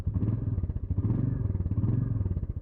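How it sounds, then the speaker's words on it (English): Royal Enfield Meteor 350 motorcycle engine idling up close, a steady low thumping single-cylinder pulse with even rhythm and moderate level, no talk. "I'm going to be taking out this little beastie, the Royal Enfield Meteor 350. Sounds gentle."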